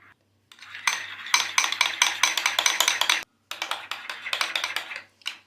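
A spoon rapidly stirs mayonnaise, ketchup and chili sauce in a bowl, giving fast close clinking scrapes in two bursts with a short pause between.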